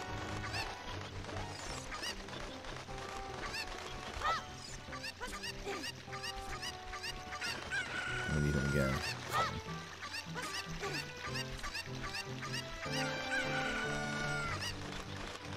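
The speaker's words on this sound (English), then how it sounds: "Never noticed that second chicken up there." In The Legend of Zelda: Ocarina of Time, a game chicken clucks and squawks over continuous background music, with a short burst of louder flapping and cackling partway through and a brief spoken word.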